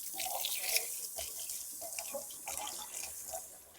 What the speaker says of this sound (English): I'm just going to wash this off.